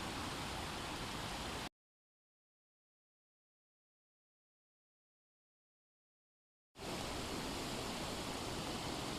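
River rapids rush over a rocky ledge in a loud, steady, close roar of water that cuts out to complete silence for about five seconds before resuming.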